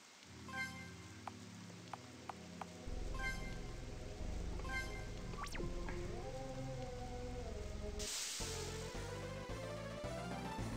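Rain sound from a creepy-forest scene in a story game, a steady wash of falling rain layered under sustained game music, with a few brief sharp accents and a swelling shift partway through.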